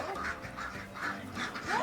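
Farm ducks quack in a loose series of calls, fairly close and moderately loud, with light outdoor background noise and no talking.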